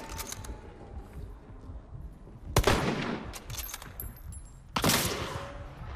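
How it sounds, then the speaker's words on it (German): Gunfire in the Hunt: Showdown video game: two loud, sharp shots about two seconds apart, each with a booming, reverberant tail over quiet background noise. "Na klar, schießt doch von wo auch immer. Von wo hat er jetzt geschossen?"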